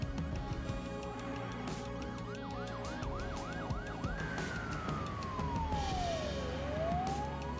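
Emergency vehicle sirens in Beirut after large explosions, a wailing siren rising and falling in quick cycles before sweeping into a long slow wail, over a busy street din of traffic.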